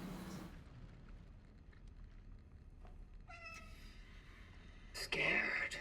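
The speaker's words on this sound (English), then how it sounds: "Kitty." A cat meows in the horror video game Cronos: The New Dawn: a short, clear, tonal meow rises out of a quiet, dark ambience, followed by a louder, noisy burst near the end.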